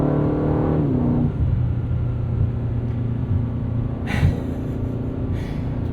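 A 2024 Aston Martin DB12 with a twin-turbo V8 pulls hard on kickdown while passing, a steady loud engine drone and road rumble heard from inside the cabin, the pitch shifting early on, with no talking.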